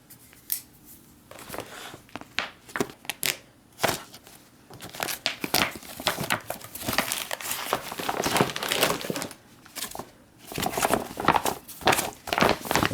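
A Meal, Cold Weather MRE ration pouch with a failed peelable seal is cut open and unpacked, giving irregular close crinkles, plastic rustles and clattering handling sounds alone with no talk.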